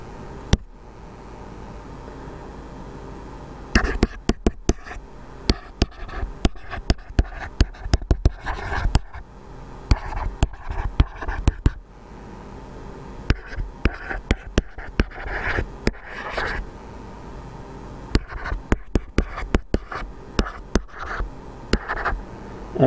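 A pen writes out a sentence by hand during a polynomial maths lesson, giving bursts of close scratchy strokes with short pauses between them and no talk.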